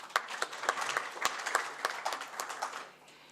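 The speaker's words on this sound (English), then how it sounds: "Just a round of applause for ZIMRA." Sparse applause at a tax authority annual general meeting, a small group clapping with distinct individual claps that thin out and fade near the end.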